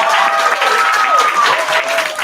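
Graduation ceremony audience in Atlanta applauding, steady dense clapping from a crowd with a whistle-like tone riding over it, continuous and fairly loud throughout.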